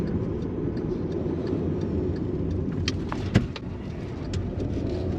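A Volkswagen Tiguan SUV imported from Japan cruises with a quiet engine, heard from inside as a steady, even low road rumble with one brief soft thump partway through and no talking.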